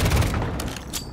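A stun grenade detonates in Call of Duty: a loud, dense burst of booming, crackling noise filling the whole short moment, with no voices over it.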